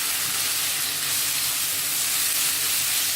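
Squid frying in coconut oil for a Kerala-style roast, a steady dense sizzle and hiss running evenly and close throughout, with no voices.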